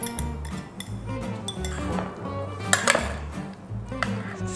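A utensil stirs pork belly in a sugary marinade inside a bowl, giving light, irregular clinks and scrapes over a low background hum.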